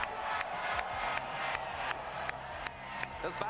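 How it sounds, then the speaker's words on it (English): A crowd at a world finals Pokémon VGC event cheers and claps in a dense, continuous wash, with a few sharper claps and whoops and a voice talking over it. "Keep cheering"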